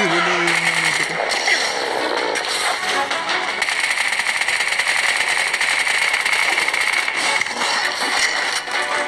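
Rapid gunfire rattles continuously in the shooter video game Bright Memory, dense bursts mixed with game effects and a steady mechanical drone throughout.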